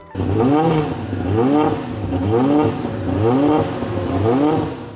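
A car engine revs repeatedly in a steady rhythm, each throttle blip rising and falling in pitch about four times over several seconds, loud and close with no talk over it.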